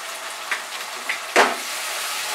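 Ginger, garlic and green chili paste fries in a pan for a Bengali aar fish curry, giving a steady close hiss with a few soft stirring scrapes.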